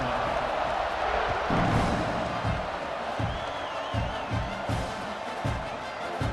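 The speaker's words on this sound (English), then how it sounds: "this crowd now ready to get behind them" Stadium crowd at a South Carolina football game roaring through a kickoff, a dense, steady wall of distant cheering and shouting with scattered thumps and whoops, lasting throughout.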